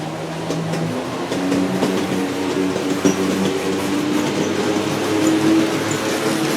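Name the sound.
G scale model locomotives SD45, SD40-2, GP40 running fast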